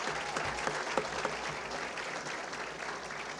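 Audience at a public talk applauding honored guests, including a former Torrance city clerk: steady, dense clapping from a moderately sized crowd with a few sharper claps standing out, continuous throughout.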